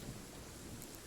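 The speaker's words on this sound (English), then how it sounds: "And it's raining." Rain and thunder in the video game Genshin Impact: a steady wash of rainfall with a low continuous rumble, even and unbroken across a brief stretch, with no voices.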